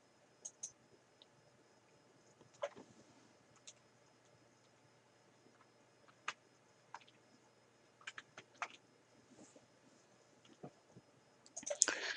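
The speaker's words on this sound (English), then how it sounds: "So I'm going to click to open up the PowerPoint file." A computer mouse clicking while a PowerPoint file is opened, sparse faint clicks and ticks spread across a quiet background, with a short burst of clicks at the end.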